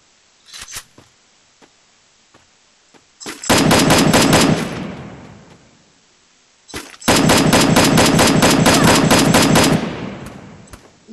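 Automatic gunfire in a shooter video game: a few sharp single shots, then two long rapid bursts of loud, close fire, each lasting several seconds, separated by near silence.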